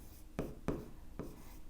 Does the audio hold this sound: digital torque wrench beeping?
no